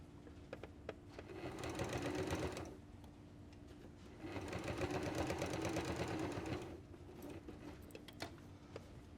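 A sewing machine stitches a baby hat in two sustained runs of rapid motor whir and needle chatter, separated by a quieter pause, with faint low noise before and after.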